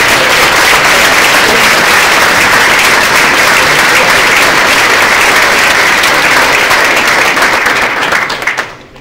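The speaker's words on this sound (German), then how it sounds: "Jetzt haben Sie schon viel geklatscht" Loud, dense applause from a large audience at a Formula Student team's car rollout event, a continuous wall of clapping filling the room before it fades away at the very end.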